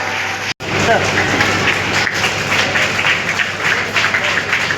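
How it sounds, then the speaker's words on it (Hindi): Applause from an audience at a student award ceremony at a career institute, a steady dense wash of many hands clapping that fills the whole stretch after a brief cut at the start. "फिर तालियां बजाइए भाई"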